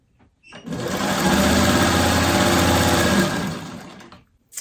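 A sewing machine stitches fabric for a freeform letter project, ramping up into one fast, steady run of rapid mechanical chatter for about two seconds, then slowing to a stop, close and loud with no talk.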